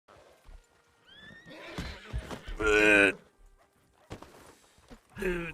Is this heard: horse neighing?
yes